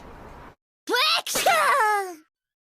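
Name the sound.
sneeze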